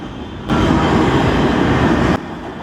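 A sand freight train rolls past with a broad, steady rumbling roar that surges in abruptly, holds loud for under two seconds, then drops back to a lower continuous rumble.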